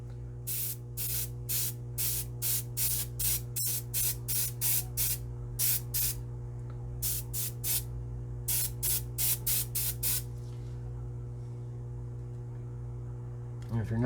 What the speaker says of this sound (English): So I'm going to mist this off camera real quick.